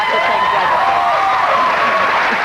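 A studio audience applauds, a dense steady clapping from a crowd that holds at full loudness for the whole short stretch.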